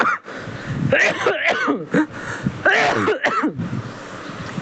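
A few harsh, throaty coughs burst out in quick clusters against a steady background hum, close and fairly loud.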